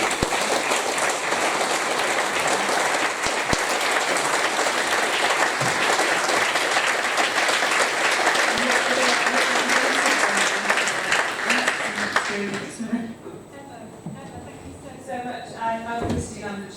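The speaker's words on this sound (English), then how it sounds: "I don't know if you heard the applause" Audience applause at a COP26 climate conference panel, sustained dense clapping from a large crowd that fades out after about twelve seconds, followed by quieter room sound.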